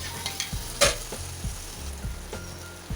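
Chopped tomato frying and being stirred in a pan for a Kerala Syrian Christian fish roast: close sizzling with rhythmic spatula scrapes about every half second.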